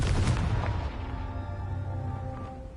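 Confringo, an explosive spell in Hogwarts Legacy, lands with a single deep boom that rolls off into a fading rumble over a couple of seconds.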